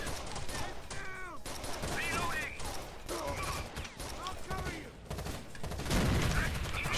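Blind gunfire rattles out in the Rainbow Six: Vegas 2 video game, rapid bursts of shots and fusillades mixed with game noise, as someone talks over the action.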